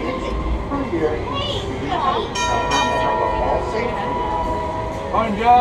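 A Red Car electric trolley at Disney California Adventure rumbles along the rails with squeals and a bell-like ring, while people talk over the steady rolling noise.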